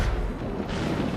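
Heavy naval mortar and cannon fire in Assassin's Creed Rogue rumbles as a continuous, dense low boom across the whole brief stretch, loud and unbroken.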